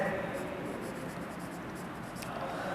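Marker or chalk writing on a board during a physics class, a soft continuous scratching and squeaking of strokes heard beneath a male teacher's spoken explanation.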